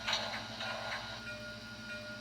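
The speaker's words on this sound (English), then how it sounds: "That sound you're hearing now is the cross-compound air pumps." Sound-card cross-compound air pumps on a model Buffalo Creek & Gauley 2-8-0 #13 steam locomotive give a few quick, faint rhythmic pulses that fade over a low background hum.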